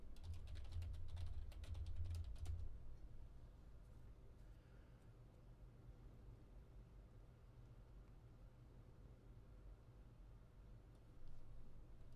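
Keys clatter on a computer keyboard in a quick burst for about three seconds, then faint background hiss continues; the typing sounds fairly close but quiet, with no speech.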